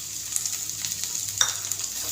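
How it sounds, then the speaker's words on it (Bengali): Spices sizzle with lightly fried onion in a pan for a pointed gourd and prawn curry. The frying crackles steadily, broken by a few stirring scrapes and spatters, with no talking. "পেঁয়াজটা হয়ে গেছে, এবার দিয়ে দিচ্ছি মশলা।"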